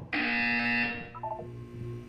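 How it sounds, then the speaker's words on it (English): A harsh, steady electronic buzzer in Portal 2 blares for about a second, then fades into softer tonal beeps and a low hum. "When you hear the buzzer, look down at the floor."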